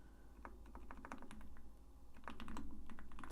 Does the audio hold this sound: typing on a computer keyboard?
yes